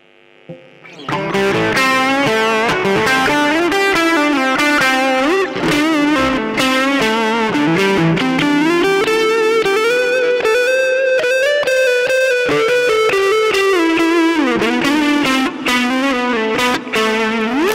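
Electric guitar through a Line 6 HX Effects pocket fuzz, heavily distorted with a thick, buzzy fuzz tone, playing sustained notes and bends continuously and loudly.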